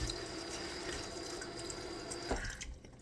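Tap water runs steadily into a sink as leafy greens for iguana food are rinsed, a soft continuous splashing that stops abruptly near the end.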